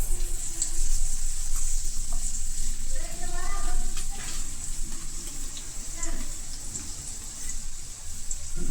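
Onion pieces and three dried red chillies fry in oil for an egg potato curry, a steady broadband sizzle running throughout with faint stirring clinks, close and moderately loud.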